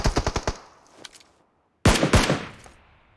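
Automatic gunfire in the mobile battle-royale game PUBG Mobile: a rapid burst of about eight loud shots, a faint pair of shots, a short silence, then a second loud, dense burst with trailing echo.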